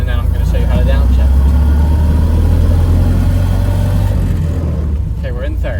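A Model A Ford engine runs steadily with a loud, low rumble through third gear, holding a constant drone that eases slightly near the end while someone talks over it.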